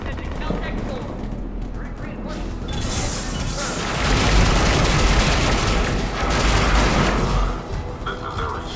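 Rapid bursts of automatic gunfire and heavy impacts in a Mass Effect 3 firefight, loud and dense, swelling in the second half with a constant rattle of shots.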